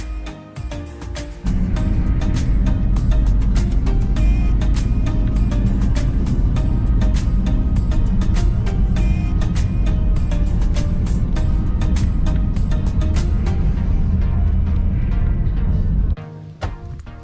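Vehicle driving up a high country track in Victoria toward clouds, a loud steady engine and road rumble with clattering bumps throughout, easing off at the end.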